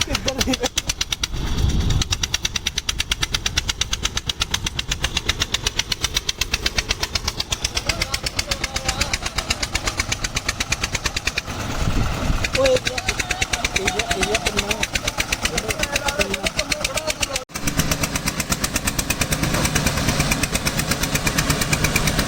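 Tractor engines strain to haul a loaded trolley through a wet maize field, a loud, close, continuous diesel chug with a rapid knocking pulse that surges louder around the middle before briefly cutting out and resuming.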